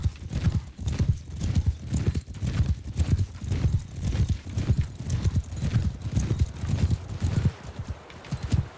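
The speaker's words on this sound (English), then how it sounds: "We'll show you how devastating a herd of horse archers can be." Horse archers galloping in the video game Mount and Blade Bannerlord: dense, rhythmic clip-clop of many hooves pounding steadily and loudly throughout, with an occasional whinny mixed in.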